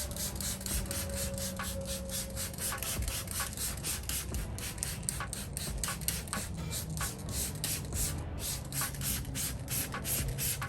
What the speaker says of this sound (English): We're going to spray this window,